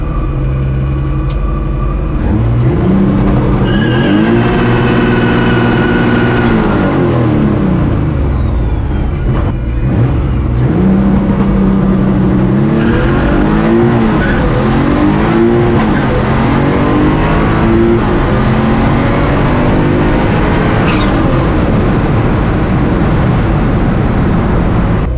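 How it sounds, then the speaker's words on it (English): A car revs hard and spins its tires in a burnout, then launches with rising engine sweeps up through the gears in a 0-60 mph run; loud, close and continuous, with no talk. "do a burnout and then go again."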